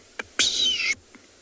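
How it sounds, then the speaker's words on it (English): A bird gives a short, harsh alarm call at a lioness on an afternoon safari in South Africa, one raspy burst with brief faint chips either side, heard alone in the quiet bush. "there's a bird alarm calling at her"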